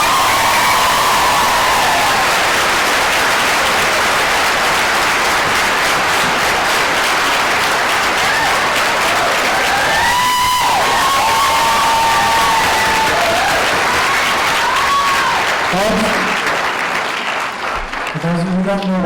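Applause and cheering from a town meeting crowd in Upton, Massachusetts, right after a Proposition 2.5 override vote carries, loud and sustained through the whole stretch, with some voices and shouts mixed in before it thins near the end.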